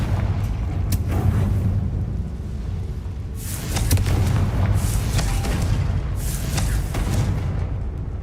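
Confringo fire spell blasts in Hogwarts Legacy, a series of deep booming bursts with crackling, rumbling tails over a steady low game soundtrack, several impacts spread across the span.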